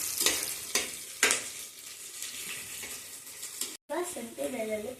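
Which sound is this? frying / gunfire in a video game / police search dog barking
frying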